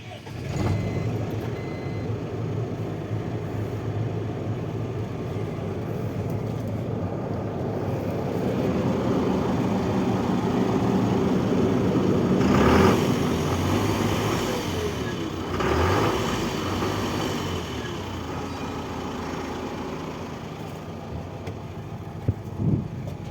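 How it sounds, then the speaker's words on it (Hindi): An Ashok Leyland Ecomet Star 1815 BS6 truck's diesel engine runs at idle, a steady low rumble lasting the whole time, swelling slightly mid-way, heard close with no talking. "अभी इंजन को स्टार्ट कर इंजन के साउंड सुनाएंगे"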